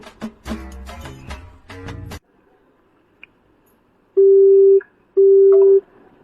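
A telephone busy signal on a call to book a gas cylinder that will not go through: after a burst of clatter, two loud steady tones sound alone, each about half a second long and evenly spaced.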